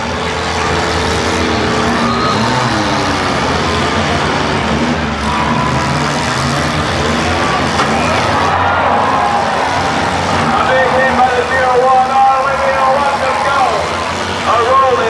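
Compact cars rev and bang about in a demolition derby in Muskingum County, Ohio, with loud engines roaring continuously under an announcer talking and crowd noise.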